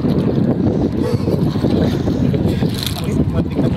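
Strong wind sweeps across a fishing boat at sea, a steady, loud broadband roar with gusting buffets that never lets up.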